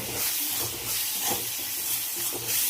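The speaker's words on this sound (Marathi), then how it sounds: "आता आपण जे रेग्युलर मसाले घेतलेले आहेत ते पण ॲड करते ह्याच्यामध्ये आणि पुन्हा परतून घेते" Spices sautéing in oil with onion for a dry mutton curry, giving a steady close sizzle and hiss with soft stirring scrapes throughout.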